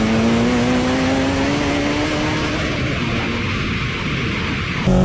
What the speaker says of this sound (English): 900 horsepower Skyline.